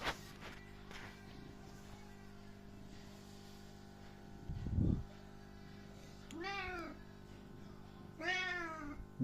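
A cat meows twice, around 6.5 and 8.5 seconds, each call a clear rising-then-falling wail close to the listener, over a low steady hum with a brief dull thump just before.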